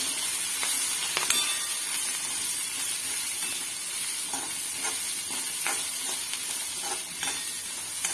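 Sweet corn snack with onion and peanuts sizzles steadily in a pan, a continuous soft hiss broken by scattered clicks and scrapes of stirring, heard alone without talk.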